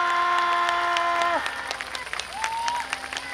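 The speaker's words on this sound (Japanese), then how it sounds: "鳴り止まない拍手、終わらない声援" Crowd applause with some cheering at an outdoor Yosakoi Soran festival dance stage in Sapporo, a dense clapping wash that continues as sustained tonal sounds fade out midway.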